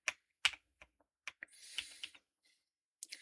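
Scattered keystrokes on a computer keyboard click in irregular bursts, close and quiet, with a brief rustling pass in the middle and silent gaps between taps.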